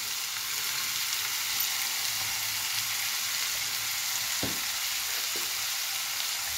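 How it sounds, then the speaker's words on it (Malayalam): Chopped tomatoes with turmeric fry in a pan for a tomato theeyal, giving a steady, even sizzle close up. One or two brief clicks come from the spoon or pan, and no one talks. "വെച്ചിരുന്ന മൂന്ന് ടൊമാറ്റോ അരിഞ്ഞതും ചേർക്കുക."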